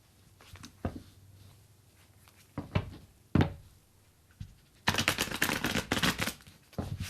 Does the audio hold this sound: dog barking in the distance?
no